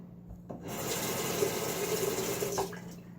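Water splashing as a razor and face are rinsed at a sink after a shave with a Fatip Piccolo and Gillette Nacet blade. Steady running-water wash for about two seconds, close and moderately loud, with no talk.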